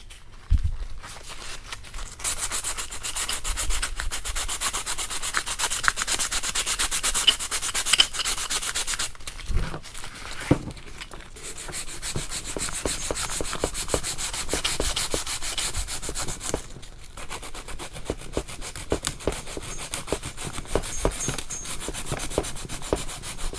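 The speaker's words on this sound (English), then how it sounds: "Here's what the sanding looked like." Continuous hand sanding of fiberglass, a steady scratchy rubbing that goes on for over twenty seconds with brief pauses and shifts in stroke, close and unbroken.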